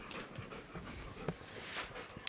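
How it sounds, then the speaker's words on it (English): A dog pants softly and quickly close by, faint rhythmic breathy huffs in a quiet room with a few small thumps and shuffles. "Pardon the dog."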